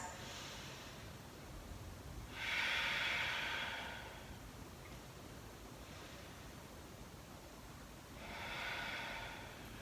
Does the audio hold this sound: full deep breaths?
yes